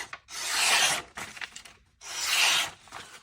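A Vosteed Acorn knife slices through paper in two long rasping strokes with a short scraping pass between them, crisp, close and loud, with no talking.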